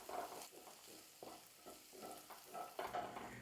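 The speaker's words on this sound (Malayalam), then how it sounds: "നമുക്ക് ചെറുള്ളി ജസ്റ്റ് ഒന്ന് ബ്രൗൺ ആക്കി എടുക്കാം." Sliced shallots sautéing in sesame oil for mutton curry, with a gentle sizzle broken by repeated spatula stirs and scrapes in an uneven rhythm, close and moderately quiet, with no talking.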